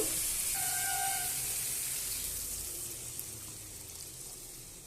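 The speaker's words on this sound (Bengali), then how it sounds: "এবার আমি এখানে জল দিয়ে দেব।" Water poured into a pan of fish curry with potatoes gives a broad hiss and sizzle with a short tonal squeal near the start, fading gradually as the pan settles.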